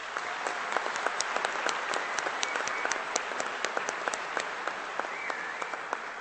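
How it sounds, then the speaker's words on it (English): Audience applause for faculty at a spring commencement ceremony: a dense, sustained wash of many hands clapping, with sharp individual claps standing out, steady and loud for several seconds without a voice over it. "Please give them another round of applause."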